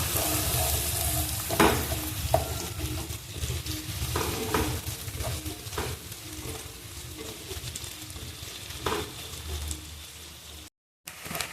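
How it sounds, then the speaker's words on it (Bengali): Onions fry in a pan until browned, a steady close sizzle with occasional stirring scrapes and clatters, no voices over it. "পেঁয়াজটা আমি লাল লাল করে ভেজে নেব আগে।"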